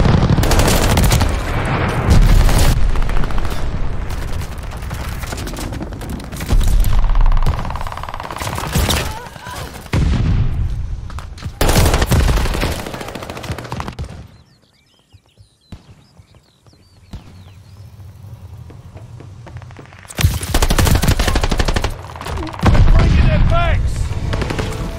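A friendly glide bomber's airstrike in Call of Duty Vanguard Team Deathmatch brings loud bursts of gunfire and booming impacts, with heavy noise dropping briefly to a quieter stretch before the barrage returns even louder.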